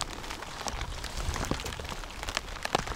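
Steady rain pattering on surfaces outdoors during a November fishing trip on a lake, a dense even hiss of drops with a few sharper nearby splats, no voices.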